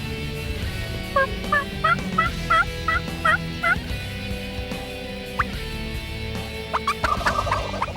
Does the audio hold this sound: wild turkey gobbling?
yes